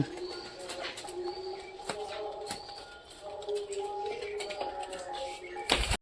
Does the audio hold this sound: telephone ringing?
no